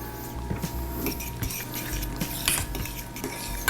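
A utensil stirring a thick cheese mixture in a pan, with close, repeated scraping and clinking of metal against the pan over a faint sizzle.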